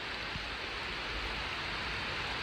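Steady rain of the season's first downpour pours down as a constant, even hiss, with water collecting outside in a poorly drained spot; no voices.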